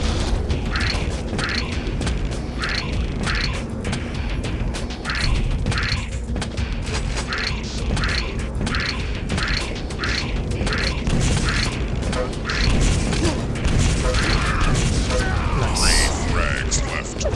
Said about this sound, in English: It's so loud when you use the machine gun.